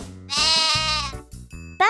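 A sheep bleats in one long, loud, wavering baa that fills most of the short clip, with quieter sounds before and after it.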